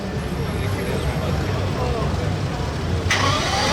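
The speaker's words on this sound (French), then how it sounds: "Le démarrage du V12." An Aston Martin V12 Vantage fires up on a Monaco street, its engine swelling abruptly near the end over a constant wash of traffic and street noise.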